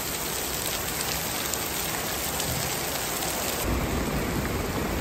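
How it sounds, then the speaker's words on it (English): Heavy rain drums on the workshop roof and overflows the gutters and drains, a steady close roar that thickens slightly toward the end, with no talking. "There's the rain. That's why we're in the workshop."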